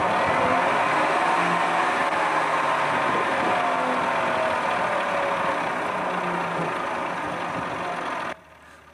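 An electric motor runs in a converted farm pickup fed by 120 volts from batteries in series, with an alternator and a rheostat throttle under the hood, giving a steady close mechanical drone and hum that cuts off abruptly near the end.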